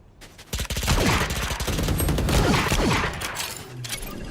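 Video game gunfire rattling out as rapid automatic bursts, loud and close, with a thumping start and sustained staccato shots through most of the stretch before tapering.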